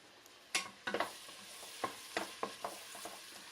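Vegetarian feijoada ingredients stirred in olive oil in a pan, with a series of soft scraping, clattering stir strokes at an uneven rhythm over a faint sizzle, close and quiet, with no talk.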